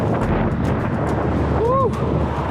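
Strong gusting wind on a bridge roars into the microphone as the structure rattles and vibrates, a constant loud buffeting with a brief whooping voice partway through.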